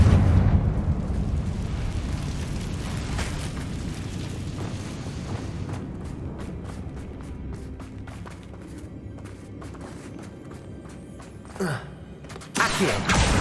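A blasting spell explodes in the Hogwarts Legacy video game with a deep, rumbling boom that decays over several seconds, followed by scattered debris crackles and a few sharper bursts near the end.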